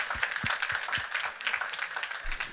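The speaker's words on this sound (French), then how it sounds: "Donc je pense qu'on peut l'applaudir pour ça." A small church congregation at a worship service applauds the drummer, a lively, uneven burst of many hands clapping nearby, with distinct sharp claps through the patter.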